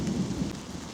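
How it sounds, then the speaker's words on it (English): Low thunder rumbles through steady rain on a countryside walk, a soft continuous roar with faint rustling. "As you can hear that thunder rumbling in the background there."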